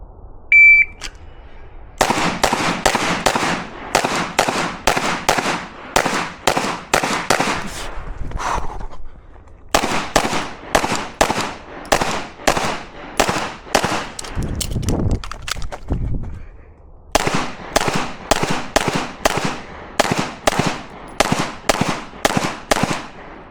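At a shooting range session, loud, sharp pistol shots ring out in three fast strings of evenly spaced rounds. Brief pauses fall between the strings, and a timer beep starts the sequence.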